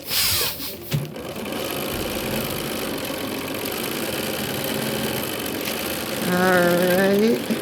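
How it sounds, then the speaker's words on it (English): A sewing machine stitches quilt fabric during chain piecing, a steady close mechanical whir that runs throughout, with a brief rattle near the start and a higher whine near the end. "I'm getting to sewing on one side of my line."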